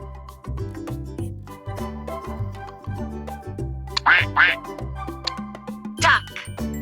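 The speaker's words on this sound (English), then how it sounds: "Duck." A duck quacks several times in short, nasal bursts, close and clear over a bouncy children's music track that plays throughout.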